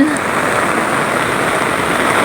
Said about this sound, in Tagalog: Ayan mga kamusang, ang lakasan ng ulan.